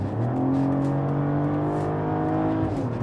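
A six-cylinder sixth-generation Mercedes-Benz E-Class accelerates with a steady, full engine drone that climbs gently in pitch, loud and continuous throughout, with no speech.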